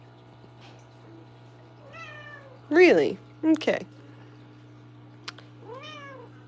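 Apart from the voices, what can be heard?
cat meowing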